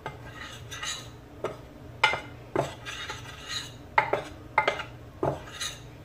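A spoon mixes Jamaican-style rum cake batter in a bowl, clinking and scraping against the sides. The strokes are close, irregular and repeat about a dozen times, with a quiet kitchen behind them and no talking.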